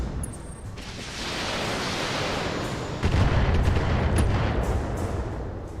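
A BattleTech mech's machine gun ammunition cooks off, giving a loud roar of booming, crackling blasts that swells and then hits harder about halfway through, with no voices over it.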